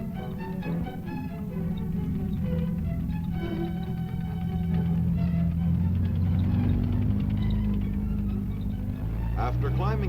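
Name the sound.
T-48 tank driving on test track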